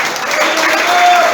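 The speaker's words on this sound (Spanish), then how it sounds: "Aplauda al que vive en esta tarde" A church congregation applauds together in a short burst of dense, steady clapping that fills the room at close range, with no speech over it.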